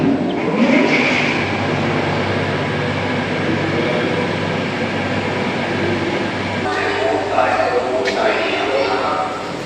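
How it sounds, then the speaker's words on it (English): A small motorised cart rumbles continuously along old sugarcane rails, close and moderately loud. Its clattering wheels and engine noise stay steady throughout. "the little carts that they'd use to get around on the sugarcane rails"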